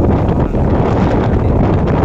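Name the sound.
strong wind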